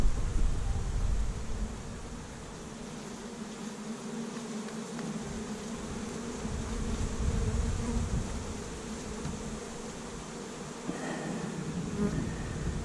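Bees buzz steadily during a winter bee rescue, a continuous low drone from many insects close by, with soft rustling and slight swells in loudness.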